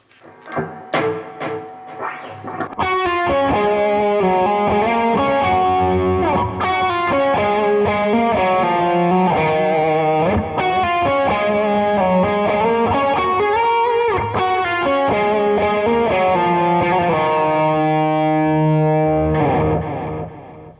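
An electric guitar plays a distorted lead melody washed in echoing delay and reverb, sustained and loud, after a few quieter plucked notes at the start.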